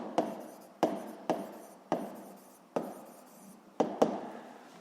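Someone writes out a physics conservation-of-momentum equation, with about seven sharp taps, each followed by a brief scratchy stroke, in an irregular rhythm close by and with no speech.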